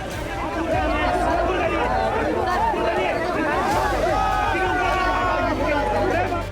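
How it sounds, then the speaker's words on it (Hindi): Thousands gather in Bihar to see Bageshwar Baba: a dense, steady crowd babble of many overlapping voices, loud and continuous, with no single speaker standing out. "बाबा बागेश्वर को देखने हजारों की भीड़ उमड़ पड़ी।"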